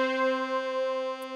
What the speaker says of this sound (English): I have this brass one shot